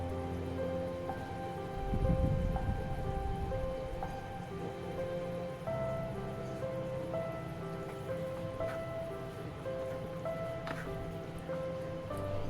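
Spiced egg curry with chopped coriander bubbles softly in a pan, giving a faint, steady hiss with light popping over a low background hum, and no voices.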